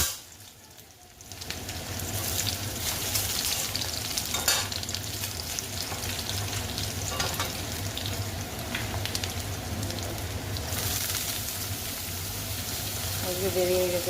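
Potatoes, onion and chillies sizzle and fry in hot oil in a kadai, a steady crackling hiss with occasional stirring scrapes, close and continuous throughout.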